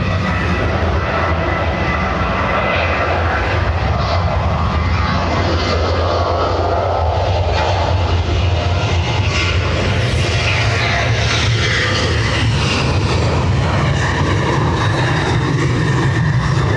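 A Ryanair airliner departs Dublin Airport for Kerry, giving a continuous heavy engine roar with deep rumbling that holds strong throughout.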